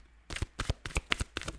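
A deck of tarot cards is shuffled by hand, giving a quick run of crisp riffling bursts up close, each one sharp and papery, with no voice over them.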